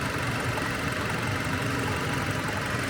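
A steady Hyundai LF Sonata 2.0 engine, at about 50,000 km, idles in the engine bay with a constant low rumble and light mechanical vibration, close up and continuous, with no voices.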